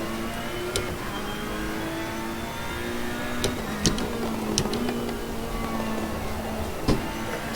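A racing car engine in a sim racing game, a Porsche-chasing car low on torque with rear damage, drones steadily at mid pitch, rising and falling through gear changes, with sharp transient clicks and bumps scattered over the continuous engine note.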